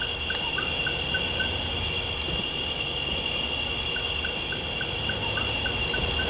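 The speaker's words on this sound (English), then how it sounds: "I can actually go up the waterfall" A waterfall in the video game SiN gives a steady, even rush of falling water that fills the whole stretch, with a faint repeating chirp above it and no speech.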